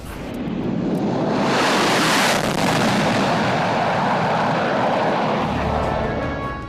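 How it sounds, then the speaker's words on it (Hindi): A C-17 transport and two Sukhoi-30 jets pass overhead in formation at India's Republic Day 2023 flypast, a loud broadband jet roar that swells, peaks and slowly fades. "एक C-17 और 2 सुखोई 30 मिलकर बनाएंगे भीम फॉर्मेशन"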